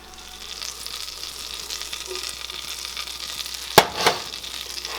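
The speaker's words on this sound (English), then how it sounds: "we're going to add to it a tablespoon of flour. And we're just going to whisk that together until it's good and combined" Flour is whisked into melted butter in a pan, producing a soft steady sizzle with light scraping, then a couple of sharp clinks as the whisk taps the pan near the end.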